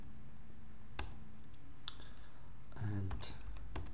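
Typing a command on a computer keyboard, with a few isolated clicks spaced apart and then a short cluster of keystrokes near the end, close and fairly quiet against a low hum.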